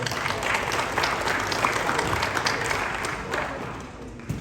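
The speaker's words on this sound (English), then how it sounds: "Let's give him another round of applause." An audience at an HBCU football event gives a sustained round of applause for a football coach, the dense clapping steady and fairly loud before easing off near the end.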